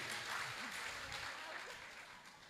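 Audience applause at a Jain religious gathering honoring an acharya, a broad wash of clapping filling the whole stretch at a fairly faint, even level with some murmuring voices underneath.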